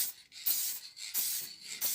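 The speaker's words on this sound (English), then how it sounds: "we're just going to spray the full thing with this, or any lacquer, varnish" An aerosol can sprays lacquer or varnish over a router-carved wooden skull in short, repeated hissing bursts, about four passes in two seconds, close to the listener with brief gaps between.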